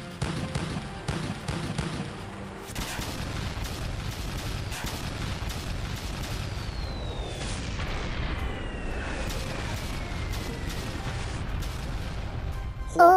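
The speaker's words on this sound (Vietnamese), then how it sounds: "Sư đoàn 2 yêu cầu pháo binh bắn một đợt đạn, tạo vùng chết chặn đứng của phản công của địch" An artillery barrage of many guns fires in a war drama, a dense rumbling stream of booms and blasts with a whistling shell streaking overhead, continuous and loud.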